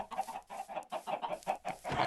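A chicken clucking in Minecraft, a series of short, close, rhythmic clucks in quick succession, alone without talk.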